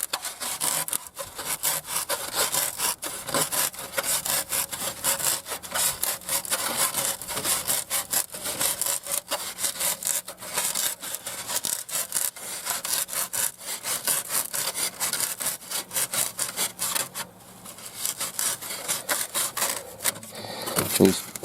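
A knife scrapes and cuts through the inside edge of a thin, flimsy plastic pan plate for a trap, a steady close rasping sawing texture that runs almost continuously with short pauses.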